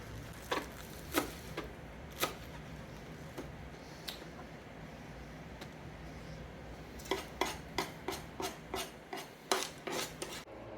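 Chopped green onions are stirred into a fish patty mixture in a bowl, heard as a faint steady rasp broken by light utensil clinks that come more often toward the end.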